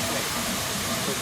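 Steam locomotives work at Cass Scenic Railroad, giving off a dense, continuous roar of hissing steam and mechanical rumble that fills the whole moment without a break.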